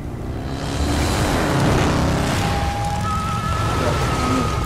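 Lara's motorcycle engine roars loudly and steadily in the video game Tomb Raider Underworld, set in southern Mexico, building in the first second, then holding a rough, continuous drone with faint tonal whines layered on top.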